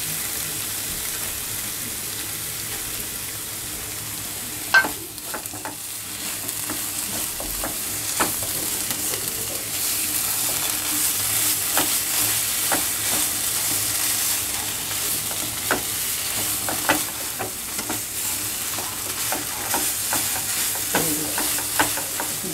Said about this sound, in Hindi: 5 मिनट इस तरह सिर्फ नारियल को ब्राउन करने तक